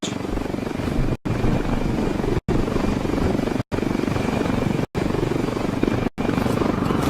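Helicopter in the video game Ghost Recon Wildlands, a loud, steady rotor and engine drone that holds throughout, broken by brief sharp cutouts roughly every second.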